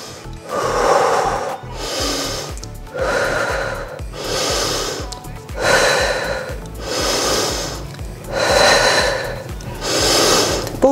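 Heavy rhythmic breathing while a person holds a straight-arm plank during a home workout, about eight loud close inhale-exhale cycles at a steady pace with no talking.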